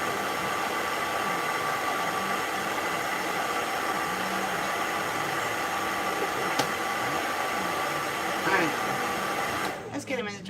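Pet dryer box blowing warm air over a British Shorthair cat after a bath, a steady loud whirring hum throughout, with a person briefly speaking near the end.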